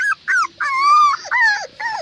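Puppies close by let out a run of high, wavering whimpers and whines in quick bursts, loud and clear with no talking.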